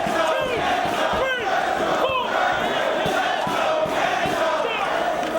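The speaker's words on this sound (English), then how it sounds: "Crowd voicing their support for their chosen wrestlers." A packed wrestling crowd cheers and chants loudly for the wrestlers, a dense, continuous roar of many voices with rising shouts, steady and close throughout.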